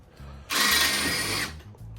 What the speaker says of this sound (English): Kind of just drilling out all these body rivets